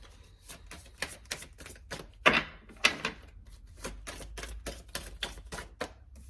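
Tarot cards shuffled by hand in a quick run of crisp riffling taps and flicks, close and fairly quiet, with a couple of sharper slaps partway through and no talking.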